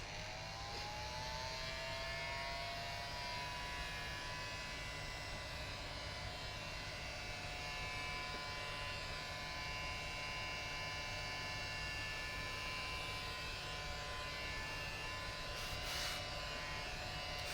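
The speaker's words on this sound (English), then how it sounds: "I'm gonna grab my heat gun for a minute." Heat gun drying a freshly painted flower box, a steady close whirring blower drone with a high whine that runs unbroken for the whole stretch, with no talking.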